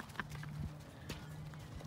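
Horse hooves clip-clop in a riding ring, a steady run of quiet, close hoofbeats over faint background noise.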